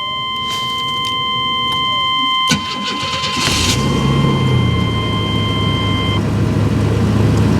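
A GMC Jimmy SLT with a 4.3 Vortec V6 cranks and catches after a steady electronic warning chime, then settles into a close, even idle as the chime fades.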